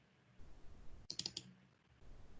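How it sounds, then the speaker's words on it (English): A computer mouse in ChemDraw gives a quick double click, two or three sharp close taps in a quiet room, with no talking. "double-clicking on arrow to select entire reaction"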